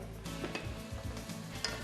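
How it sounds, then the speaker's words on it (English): Vegetables, including corn, sauté in a pan for a fresh vegetable soup, giving a soft, steady sizzle with faint stirring scrapes throughout, close and quiet with no talking. "We're going to just let those saute for just a second."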